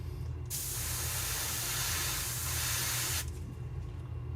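A steady hiss from an inexpensive 3-in-1 airbrush spraying paint on a Gundam plastic model sounds for about three seconds, starting and stopping abruptly, over a low background hum.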